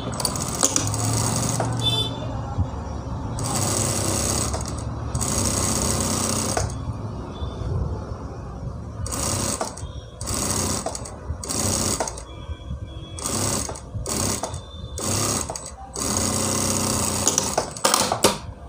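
A sewing machine stitches the lining of a blouse in several bursts of fast, close whirring, stopping and restarting between runs of stitching.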